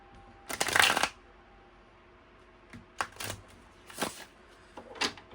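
Playing cards are shuffled in several quick riffling bursts, one long one first and then shorter ones, close and crisp with pauses between.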